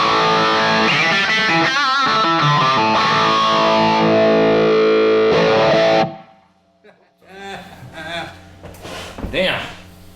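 An electric guitar runs through a small effects pedal, sounding loud and distorted as chords ring for about six seconds before cutting off. Quieter bursts of playing follow, with people talking in the background.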